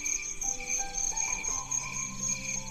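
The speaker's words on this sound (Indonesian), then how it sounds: "dan suara jangkrik mulai terdengar mengisi keheningan malam." Steady, high-pitched cricket chirping fills the background on a quiet village night, a continuous shrill trill with faint lower tones beneath it.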